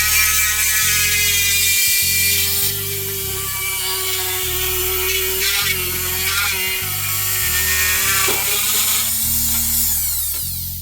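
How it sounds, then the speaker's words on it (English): A Dremel rotary tool whines continuously at high speed while cutting a circular airsoft lens out of plastic, with a steady buzzing tone that dips and wavers as the piece is turned. "I'm going to turn on the Dremel, and then I'm just going to slowly start spinning it until it completes a circle and cuts out the lens"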